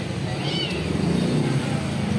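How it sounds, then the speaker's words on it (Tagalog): Cats meow a few times amid a busy indoor background hum in a pet shop, with faint voices nearby. "Oh, dami pusa oh, sa mga cat lovers dyan."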